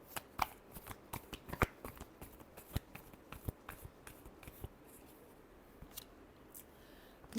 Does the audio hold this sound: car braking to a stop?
no